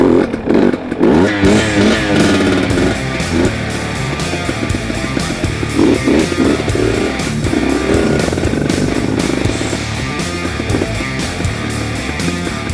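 A 2020 KTM TPI XC two-stroke dirt bike, bump started with its battery unhooked, runs loud and close with a continuous rattling engine note and slight revving throughout.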